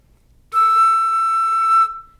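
A single clear, bright flute note held steadily for over a second, sounding alone and close with a pure, open tone.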